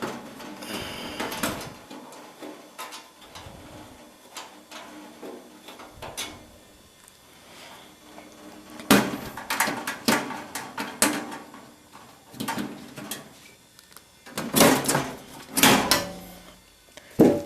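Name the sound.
opening up a Lian Li PC-K7B computer case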